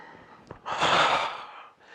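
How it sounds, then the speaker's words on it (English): A deep, rushing inhalation through the mouth during a qigong breathing exercise, close and fairly loud, swelling for about a second after a small catch and then tailing off. "And 2 more, inhale."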